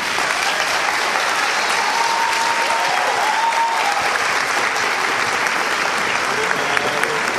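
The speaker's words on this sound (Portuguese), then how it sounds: "Vem aqui receber os aplausos, Lázaro Ramos." Loud, sustained applause from a large audience fills the whole stretch, steady and dense with no pauses.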